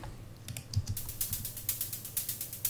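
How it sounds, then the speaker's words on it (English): A synthesized hi-hat from a Noise Engineering Basimilus Iteritas module plays steady straight 16th notes, thin crisp ticks over a faint low pulse, fairly quiet and alone. "very high sounding hi-hat, and it carries a lot of energy because it's just straight 16th notes"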